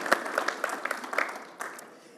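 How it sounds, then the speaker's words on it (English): Audience applause for Chris Frantz at a VersoFest 2022 conversation event, a short burst of scattered clapping from a small crowd that peaks early and tapers off. "So I think we can have a round of applause"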